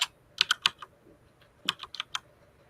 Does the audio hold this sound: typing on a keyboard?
yes